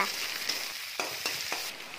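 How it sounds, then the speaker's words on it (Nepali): Washed potatoes are fried with onion and chilli in a pan. The steady sizzle is broken by about three sharp spatula scrapes in quick succession, and the sounds are close with no voices. "धुएर राखेको आलुलाई पनि हाल्दिनुपर्छ र आलुलाई पनि हालेर मजाले मिक्स गर्नुपर्छ"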